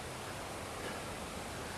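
Steady broadband rush of a waterfall along the Historic Columbia River Highway Trail, a constant soft hiss with no pauses and no voices.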